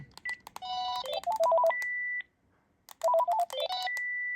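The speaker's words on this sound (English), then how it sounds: "you can hear the tone sound sharper, the confirmation tone" Bright electronic beeps and chirping melodic tones from a Panasonic KX-TGU432 cordless phone handset, a short confirmation sequence played twice with a brief pause between, sharp and close.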